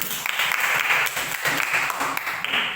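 Students in a seventh-grade classroom clap together in steady, close rounds of applause that swell and dip several times.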